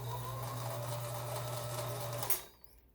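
Kenmore sewing machine stitching, a steady whirring hum from the motor for about two seconds before it stops abruptly, leaving near silence.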